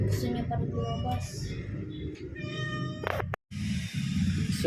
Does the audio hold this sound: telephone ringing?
no